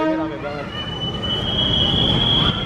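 A commuter train moves through busy Tanah Abang station: a low rolling rumble under a sustained high wheel squeal that rises and holds, loud and near, with crowd murmur in the background.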